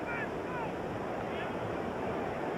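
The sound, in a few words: strong wind blowing across stadium microphone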